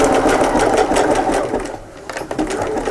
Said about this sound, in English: So now I'm just going to run that under the machine again and just do a nice neat zigzag finish.